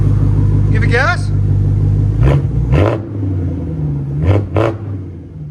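A BMW engine, one of its 4.4L, 4.8L or 5.0L V10 units, idles loudly, then a voice speaks briefly, followed by two sharp throttle blips, each a rising roar that quickly falls away.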